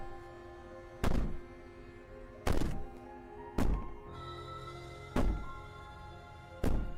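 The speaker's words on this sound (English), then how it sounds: "Maybe the banging and wailing will stop if you just don't pay attention to it" Five heavy bangs against a door in a video game's story scene, spaced about every 1.3 seconds, each a loud booming thud with a short rumbling tail over a quiet ambient hum.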